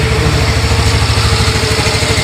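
A vehicle engine idles steadily at the tailpipe during an exhaust emission test with a gas analyzer, a loud, continuous low throbbing rumble with even pulses and no speech.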